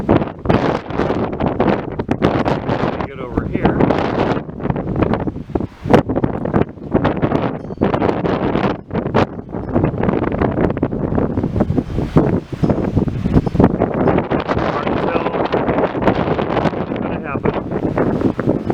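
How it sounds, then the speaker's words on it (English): Strong monsoon-season wind buffets the microphone in loud, continuous gusts with brief dips, a rough roaring rush throughout. "But it is very windy and it looks kind of cool."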